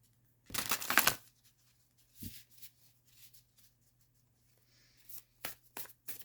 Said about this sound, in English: I'm going to give this a better shuffle real fast.